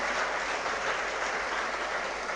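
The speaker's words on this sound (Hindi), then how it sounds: "एक बार जोरदार तालियां" An audience gives loud applause at a talk by a civil services topper, a continuous wash of clapping that holds at an even level from start to finish with no voices on top.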